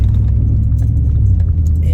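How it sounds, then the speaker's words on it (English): Deep, steady engine and exhaust drone from a 2015 Chevy Silverado 1500 LT pickup with a new exhaust while driving, rumbling close and continuous with someone talking over it. "I wanted to do this video driving, so you can kind of hear the acceleration, maybe hear the power from the truck"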